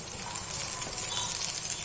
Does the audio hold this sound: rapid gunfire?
no